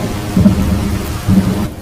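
Heavy rain falls steadily with low, rumbling thunder rolling through it in two swells, loud and close, with no voices.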